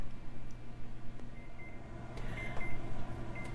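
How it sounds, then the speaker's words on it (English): A kitchen oven timer beeps repeatedly after a cream cheese Danish finishes baking, short tones sounding over a steady low household hum with faint background noise. "You can hear that the timer is going off."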